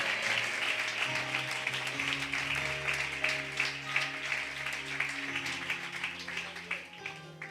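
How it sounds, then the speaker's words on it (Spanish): Congregation applause at a church service after a pastor's sermon, a broad steady wash of clapping lasting throughout, mixed with sustained organ or keyboard tones underneath. "Dale un aplauso a Dios,"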